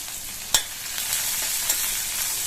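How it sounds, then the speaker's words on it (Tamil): Ten to twelve halved small onions going into leftover hot oil for a chutney: a constant close hiss of frying with a sharp stirring clack near the start and a fainter one later. "அடுத்து மீதி உள்ள அதே எண்ணெயிலேயே 10-12 சின்ன வெங்காயத்தை 2 கட் பண்ணி சேர்த்துக்கிறேன்."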